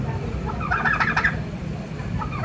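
A large turkey in Paloh lets out a rattling gobble near the middle, with a quieter trailing call afterwards, close and clear against faint background noise.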